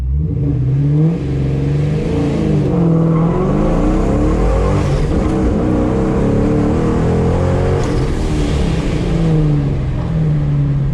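A supercharged 1999-2004 Ford Mustang GT engine roars and revs hard as it launches at 35, pitch climbing through gear changes, close and continuous for several seconds.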